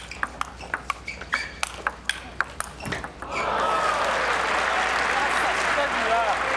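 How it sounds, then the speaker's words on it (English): Table tennis ball clicking back and forth in a fast topspin forehand-to-forehand rally at the 2000 US Open, crisp regular hits for about three seconds before a crowd bursts into loud, sustained applause. "Great topspin forehand to forehand rally."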